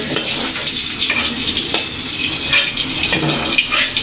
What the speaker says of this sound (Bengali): এখন এই কড়াইতে হালকা করে ভেজে নিচ্ছি